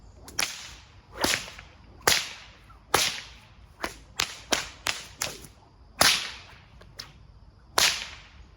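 Leather whip cracking outdoors, a dozen sharp, loud snaps at irregular intervals, some in quick bursts, each a crisp report with a brief whoosh before it, no talking.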